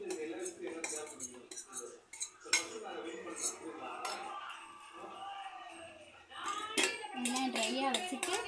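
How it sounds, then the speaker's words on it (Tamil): Spoon scrapes and clinks against a bowl as chilli powder, pepper powder, garam masala, fennel and garlic are stirred together for a fish grill marinade, close and irregular, with a voice and someone talking over it. "இப்போ மசாலா மிக்ஸ் பண்ண போகிறேன்."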